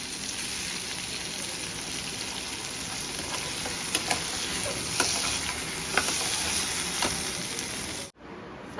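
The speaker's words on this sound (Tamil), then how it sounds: "எண்ணெய் தாராளமாக ஊற்றிட்டு ஃப்ரை பண்ண போட்டாச்சு" Food fries in plenty of oil with a dense, even sizzle that stays loud and steady throughout, broken by a few faint clicks of a utensil, then cuts off abruptly near the end.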